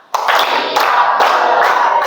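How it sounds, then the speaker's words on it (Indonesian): A classroom of students claps a group rhythm together, a burst of loud, dense clapping breaking into a few clustered waves across about two seconds. "Tepuk 5."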